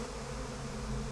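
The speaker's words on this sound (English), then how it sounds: "Want me to kill those bees?" Bees buzz steadily in the Psychonauts 2 video game, a continuous droning hum at close range that holds level throughout, alone with no voices over it.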